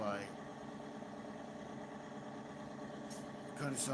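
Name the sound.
tractor engine running in the video game Farming Simulator 2019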